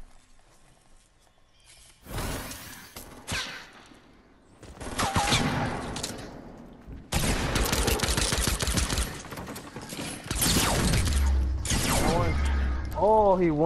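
Bursts of gunfire ring out in an online shooter match with sniping, scattered shots and rapid volleys coming in irregular clusters, close and loud, mixed with game sounds while players talk over voice chat.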